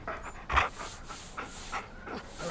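A tamed wolf in the video game Far Cry Primal pants softly and rhythmically at close range, with a few quick breathy bursts. The sound is quiet and there is no talk.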